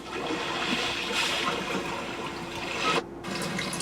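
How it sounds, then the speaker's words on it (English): A recorded rain nature sound played inside a 2021 Genesis GV80 SUV: continuous hiss of falling water like steady rain, fairly loud and even, with a brief dropout near the end before it resumes. "Rainy day."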